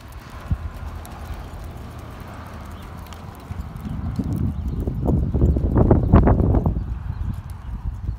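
Hooves of a horse ridden in barrel racing training clip-clop in a steady rhythm, growing louder and closer mid-clip over light wind, with no talk.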